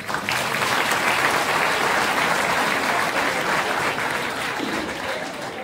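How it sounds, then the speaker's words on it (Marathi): A large audience at an evening Navratri festival lecture breaks into sustained, dense applause, with mothers in the crowd prompted to clap first, steady and loud throughout with no talk over it. "आयांनी पहिल्यांदा टाळ्या वाजवायला काय हरकत नाही"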